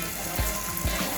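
Kaju masala gravy bubbles in a pan, a soft, continuous simmering hiss broken by two low, thick plops of bursting bubbles.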